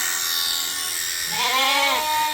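Hungry bottle-fed lambs give a single clear, wavering bleat close by over a faint steady background hum.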